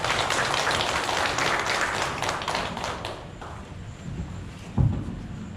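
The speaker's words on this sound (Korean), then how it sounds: "큰 박수 함께 앞으로 모시겠습니다." Applause from an audience at a citizens' regional meeting in Hwaseong: dense clapping for about three seconds, then thinning out to a few scattered claps and a single thump.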